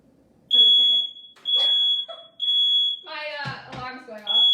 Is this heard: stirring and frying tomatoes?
no